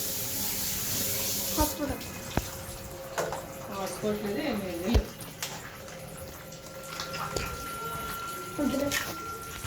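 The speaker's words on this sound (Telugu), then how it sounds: "చికెన్ని ఇలా బాగా కడుక్కుని అలా ప్రెస్ చేసుకోవాలన్నమాట." Raw chicken being washed under a running kitchen tap, water splashing steadily with handling noises and brief clatters, while a person speaks over it.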